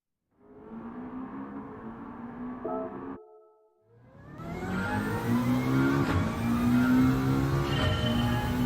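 A Gr.4 race car engine in the Gran Turismo 7 video game revs up, cuts out briefly during a shift, then climbs again loudly with a strong, rising, layered drone.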